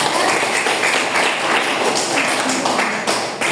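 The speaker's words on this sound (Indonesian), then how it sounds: "tepuk tangan untuk Atika." A classroom of students claps loudly and densely in a close, continuous burst that stays steady throughout, easing slightly near the end.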